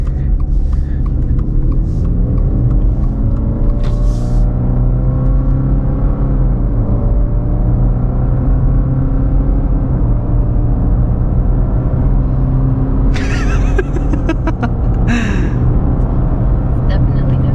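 A 2020 Subaru Outback Touring accelerates at half throttle, its engine droning as the pitch climbs smoothly through the gear, heard from inside the cabin with a voice speaking over it.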